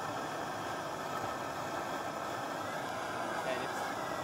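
A steady low mechanical rumble of a diesel engine turned over slowly with the compression release open, continuous and even throughout with no clear firing.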